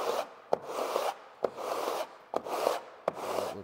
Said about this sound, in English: we can kind of carefully sand it down